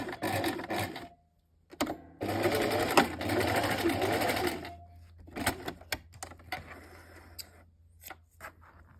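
A sewing machine stitches fabric for a pair of shorts, running in two loud sustained bursts with several back-and-forth reinforcing stitches, then shorter stops and starts of the needle.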